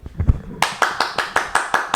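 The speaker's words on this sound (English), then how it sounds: "It's a round of applause there." A round of hand clapping, a few soft taps then a regular series of about eight sharp, close claps in a steady rhythm, alone without talk.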